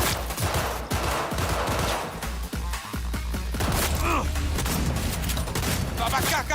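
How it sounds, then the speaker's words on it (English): Shotgun blasts and other gunfire in the shooter game Cyberpunk 2077 come as a rapid run of sharp, loud bursts and booms in close succession, punctuated by thuds, while a voice talks. "Use my shotgun."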